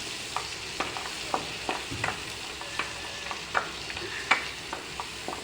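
Chillies and lemon frying in a pan for chili chutney, a soft steady sizzle broken by repeated sharp clinks and scrapes of a spoon stirring, close and moderately loud, no talking.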